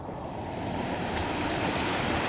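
Water pours at Mountaineer Falls on the Appalachian Trail in the rain, a steady close rushing roar that stays even and loud throughout.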